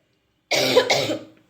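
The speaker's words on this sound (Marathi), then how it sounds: "हा खोकला जातच नाही" A person with a heavy, lingering cold gives one harsh, chesty cough in two quick bursts, close and loud, in otherwise quiet surroundings.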